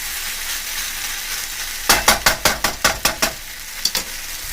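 Vegetables for vegetable lo mein sizzle steadily under a quick run of about eight loud, rhythmic stirring tosses, followed by a couple of lighter strokes, with no speech.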